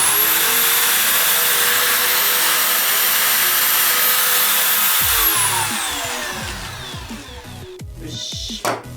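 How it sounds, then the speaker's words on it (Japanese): A power drill bores pilot holes into wood, its high whine running steadily for about five seconds before winding down, followed by a few scattered knocks and handling clatter. "これで両方マーキングできましたので、ここに下穴を開けていきたいと思います"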